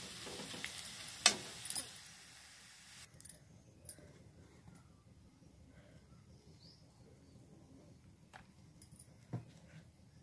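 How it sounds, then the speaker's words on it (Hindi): Spice tempering poured into cooked dal in a home kitchen, a burst of broad sizzling hiss in the first few seconds that quickly fades to a faint, steady simmer with occasional small clinks. "अब इसको मैं दाल में डाल दूंगी"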